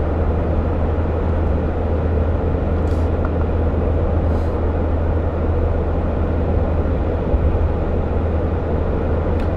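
A 2015 RAM 1500 Crew Cab Big Horn EcoDiesel pickup cruises at 65 mph in eighth gear at about 1,500–1,800 RPM, giving a steady, continuous low drone of road and engine noise from inside the cab.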